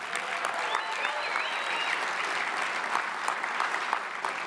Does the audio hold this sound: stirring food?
no